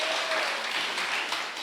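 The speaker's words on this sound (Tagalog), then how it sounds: "Malakas na palakpak para sa ating dakilang Diyos." A church congregation at a JMCIM preaching service bursts into sustained applause, a dense, even patter of many hands clapping that fills the space and tapers slightly at the end.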